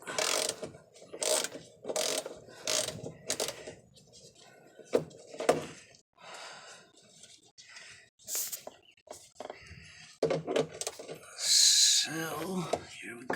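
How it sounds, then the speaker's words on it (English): A screw being unscrewed from the oil pan of a Freightliner truck gives a run of rhythmic ratcheting clicks in bursts, close by, with a voice speaking in between. "let me show you guys the screw that I am unscrewing"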